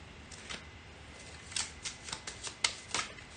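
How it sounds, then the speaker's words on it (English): A deck of game cards is shuffled by hand, heard up close as a series of quick, crisp riffles and snaps in irregular bursts that grow busier toward the end. "So to get started, we shuffle the cards up"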